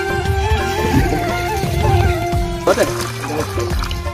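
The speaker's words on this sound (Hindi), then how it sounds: "यहाँ पे देखिए पानी डाल रहे हैं" Water is poured at a house construction site, a continuous splashing and trickling flow heard under loud nearby voices talking.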